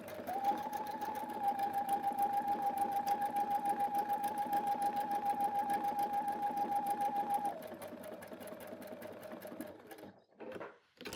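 A sewing machine stitching a buttonhole runs with a rapid, even whirring hum for several seconds, then slows and stops, followed by a few soft handling clicks; close and clear.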